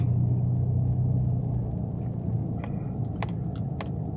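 A four-wheel-drive vehicle ploughs through deep snowdrifts of soft powder snow, its engine a steady low rumble with a faint hum that holds constant throughout, joined by a few light knocks and squeaks from the cabin.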